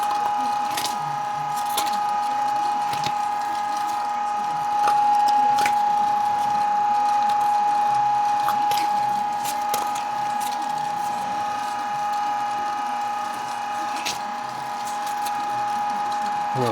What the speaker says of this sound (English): So we're on our last fine grind.